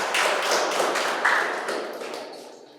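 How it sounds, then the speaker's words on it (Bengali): Audience applause at a quiz competition prize ceremony at a medical college and hospital, a burst of many hands clapping close by that gradually fades away. "ওর জন্য একটা জোরে হাততালি।"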